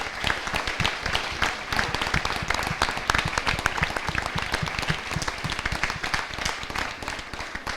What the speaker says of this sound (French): je voulais vraiment qu'on l'applaudisse tous les trois très très fort